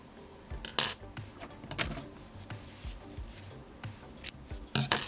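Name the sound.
scissors cutting yarn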